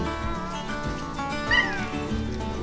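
A cat meows once, a short rising-falling cry over a low background hum, fairly close, with no talk during the sound.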